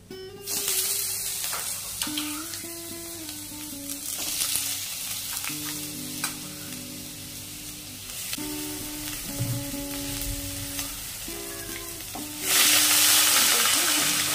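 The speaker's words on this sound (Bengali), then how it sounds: "পাঁচ ফোড়ন থেকে সুন্দর গন্ধ বেরিয়ে এসেছে, দিয়ে দেব চিংড়ি" Prawns fry in hot oil with five-spice, a dense crackling sizzle that holds throughout, with scattered clinks and a sudden loud hiss surge near the end.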